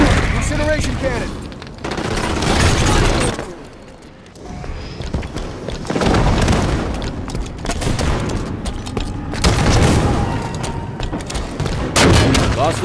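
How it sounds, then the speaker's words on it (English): Halo 5 Guardians arena match with an incineration cannon firing: repeated heavy booms and blasts in clusters amid continuous gunfire, loud and close, with in-game announcer voices mixed in. "Incineration cannon."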